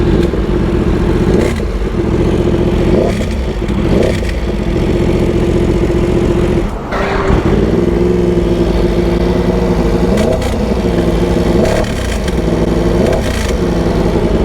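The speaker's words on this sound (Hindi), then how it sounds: "करकार करकार करकार करकार करके आवाज आ रहा है भाई" A Yamaha R1 superbike with a seized engine runs loud and close, its rough idle overlaid by a harsh grinding clatter and a few short revs that rise and fall.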